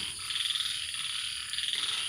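Frogs croak in a dense, continuous chorus at a flooded frog-farming pond during heavy rain, a steady pulsing buzz with a high insect-like whine over it, nearby and moderately loud.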